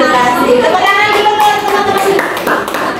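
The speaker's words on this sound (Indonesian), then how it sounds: "Tepuk tangan dulu" A class of fifth-grade pupils claps together in a lesson on the water cycle. The clapping is fairly loud and steady and runs mixed with children's voices the whole time.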